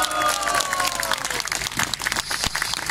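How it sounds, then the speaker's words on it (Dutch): An outdoor demonstration crowd breaks into dense, sustained applause for a speaker taking the stage, broad and fairly loud, with a brief tonal sound fading at the start. "Dames en heren, mag ik een ovationeel applaus voor de heer John Bruininga."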